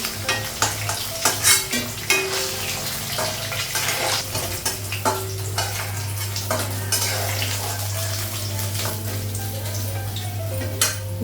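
Steady crackling sizzle of frying in hot oil, with frequent clinks and scrapes of a utensil stirring in the pan, and a low hum beneath.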